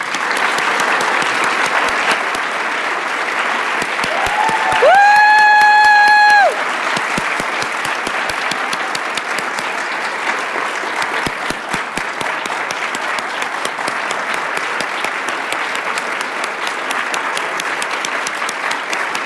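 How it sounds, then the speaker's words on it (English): An audience applauds in honour of David Suzuki at a 90th-birthday tribute event, a dense, steady wash of clapping that carries on for many seconds, interrupted briefly by a short electronic tone near the start. "Just one more round of applause"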